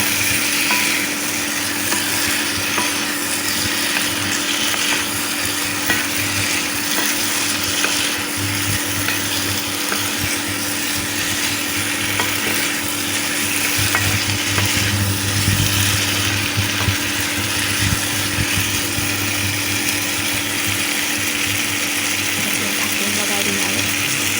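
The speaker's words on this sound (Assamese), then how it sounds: "ঢাকোন লগাই এনেদৰে ভাজি আছোঁ।" Jackfruit curry frying in a covered pan makes a steady, even sizzle that runs unbroken throughout under a low kitchen hum.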